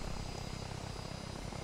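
A Blackfish VTOL aircraft in the Arma 3 video game gives off a dense, steady engine and rotor roar with a fast rhythmic thrum, continuous and close throughout.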